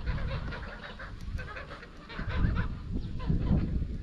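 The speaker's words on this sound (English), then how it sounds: "Goose." Geese honk at a large wooden roadside restaurant in Slovakia, several overlapping calls over a busy outdoor murmur, fairly faint and somewhat distant, thickening toward the end.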